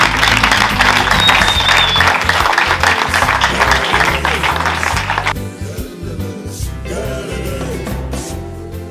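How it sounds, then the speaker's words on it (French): A crowd at an end-of-year school ceremony for an African school claps loudly and densely, then the applause drops sharply partway through and thins into scattered, quieter clapping. "Nous allons encore applaudir très fort l'école africaine."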